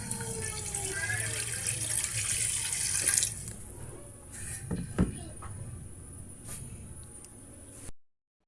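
Water pours into a pan of pancit bihon with cabbage as it cooks, a steady running, splashing stream for about three seconds, then quieter stirring and clinks with a sharp knock midway.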